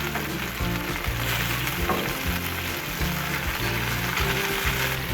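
Bacon sizzles steadily on a Blackstone griddle, a loud, continuous crackle and hiss with faint spatula scrapes and no voices.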